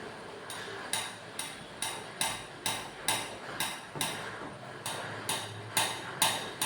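A metal spanner strikes a table about a dozen times in a steady rhythm, each hit a sharp clank with a short ringing decay, fairly close and alone.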